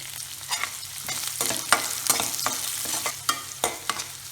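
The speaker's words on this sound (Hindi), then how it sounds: "अब हम इसमें डालेंगे कटी हुई प्याज।" Chopped onion hits hot oil with curry leaves in a pan for poha and is stirred, crackling and sizzling steadily with sharp scraping strokes of a spoon at irregular intervals, close up, with no talking.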